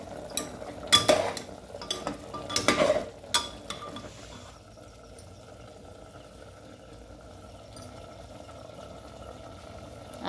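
Mutton being stirred in a cooking pot on the stove, with a few sharp clinks and scrapes of a spoon against the pot early on, then a quieter low simmering hiss.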